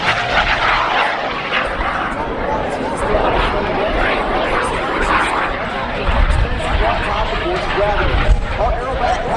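An aerobatic jet aircraft performing at the Wings Over Cowtown airshow at Naval Air Station Joint Reserve Base Fort Worth gives off a steady, broad roar throughout, while an announcer talks over it.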